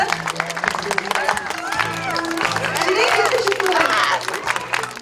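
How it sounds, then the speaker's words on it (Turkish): A crowd at an accessible farming festival in Selçuklu claps and cheers for the tomato pageant winner, with loud mixed applause, shouts and children's voices up close, and voices talking through it. "Alkışlıyoruz domates yakışıklısını."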